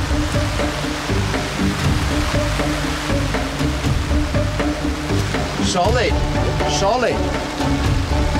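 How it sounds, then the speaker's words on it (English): Heavy rain pours down on an open archaeological dig, a loud, dense, continuous patter that stays close throughout, with voices speaking briefly over it near the end. "the rain starts to tip down"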